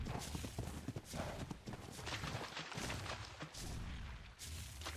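Horse hooves clatter in a rapid, uneven clip-clop as a unicorn/Equus bucks and thrashes during taming in Ark: Survival Evolved, loud and continuous across the whole stretch with dense, noisy bursts.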